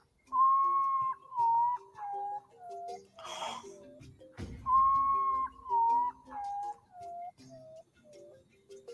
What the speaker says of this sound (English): And the common potoos, which are mostly found in South America